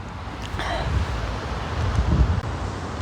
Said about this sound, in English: Really strong gusts of wind